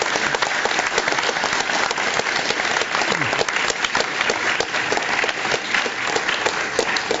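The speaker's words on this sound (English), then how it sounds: "Let's give a big round of applause for Mr." Steady, loud applause from an audience after a Steve Jobs appearance, dense clapping filling the whole stretch with no voices on top.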